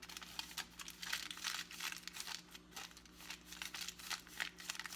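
Aluminum foil crumpled and mashed over a wreath in a DIY craft, giving continuous close crinkling bursts that rise and fall in loose rhythm, with no talking.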